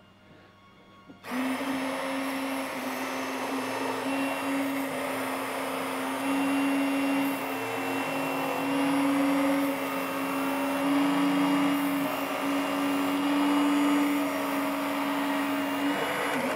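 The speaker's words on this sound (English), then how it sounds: "I'm gonna have to take a break and sharpen my steak knife again." A steak knife is sharpened during deer butchering. A steady, loud machine-like whine starts after about a second and runs unbroken, with slight shifts in pitch and level.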